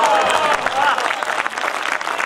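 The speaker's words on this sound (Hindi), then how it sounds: "ये मेरे समर्थन की तालियां थी" An audience at a Hindi poetry recital claps steadily in a dense, sustained burst of applause that fills the room throughout.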